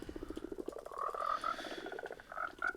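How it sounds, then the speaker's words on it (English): Frogs croak in Minecraft, a rapid run of low, rhythmic croaks joined by brighter repeated calls, close and moderately loud with no talking. "You also have frogs."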